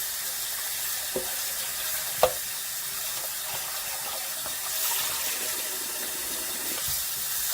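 Water runs steadily from a tap, with a few soft splashes and clunks as fish is rinsed beneath the stream.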